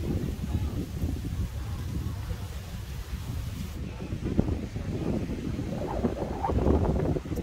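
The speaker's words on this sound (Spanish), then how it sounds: "Es una playa ventosa" Steady wind buffets the microphone on a breezy beach in Punta Cana, Dominican Republic, making a low, rumbling roar that swells and gusts throughout.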